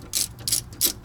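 A ratchet wrench tightening a bolt on the rear shock of a 2012 Honda Civic, three quick rasping bursts of pawl clicks in a steady rhythm, close and clear with no talking.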